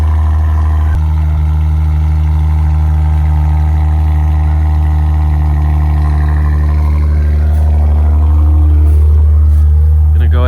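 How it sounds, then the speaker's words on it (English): A Maserati engine roars loudly on a cold start, a strong steady low rumble with high idle that holds throughout and rises slightly toward the end, close by and alone. "just started it up, and this thing is loud on cold start"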